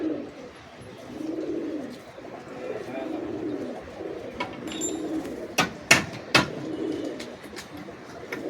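Low, rhythmic cooing from Giribaz and Teddy pigeons rises and falls in repeated swells, close by, interrupted near the end by a few sharp clattering knocks.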